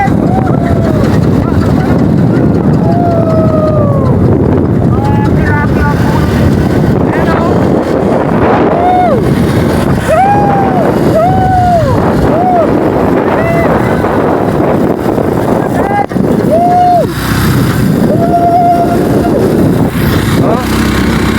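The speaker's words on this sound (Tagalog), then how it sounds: "Nahihirapan yung motor tumaas." A heavily loaded boat's motor labors as it strains to climb, a steady rough drone mixed with wind buffeting the microphone while people talk over it throughout.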